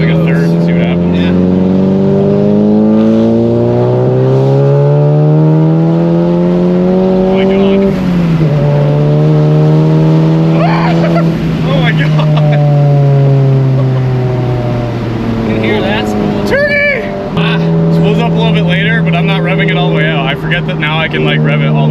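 A Volkswagen MK7 car with a big EQT turbo upgrade, around 400 horsepower, accelerates hard from close by, engine pitch sweeping up through the gears in repeated climbing pulls with brief dips at each shift.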